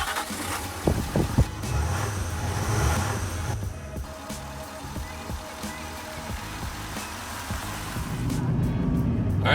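A big diesel pickup truck drives along a road, its engine rumble and road noise steady and close throughout, with the drone swelling slightly toward the end.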